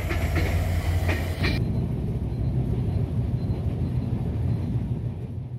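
Steady low rumble and rattle inside a moving passenger train in Bangladesh, running from Natore toward the Darshana halt near the border, with a brighter clatter at the start that drops away to a continuous, even drone.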